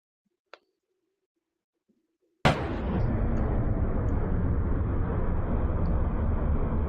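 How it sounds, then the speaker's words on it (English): A bomb blast attributed to a US strike on Nigeria bursts in suddenly after near silence and a single faint click, then sustains a loud, broad roaring rumble with crackling for several seconds. "that was the bomb that was launched by America targeting Nigeria"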